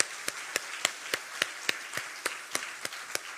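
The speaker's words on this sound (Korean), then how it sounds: "박수해 주세요." Slow, evenly spaced claps ring out at a church prayer meeting, about eleven sharp distinct hits in a steady rhythm, fairly close and moderately quiet, sounding like a single person or small group rather than a full crowd.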